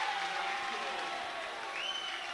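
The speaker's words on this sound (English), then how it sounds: "That gets the crowd going a little bit" A high school boys basketball crowd in a gym, Norris against Plattsmouth, cheers and applauds steadily after a dunk, a broad sustained roar of many voices with a faint whistle-like tone near the end.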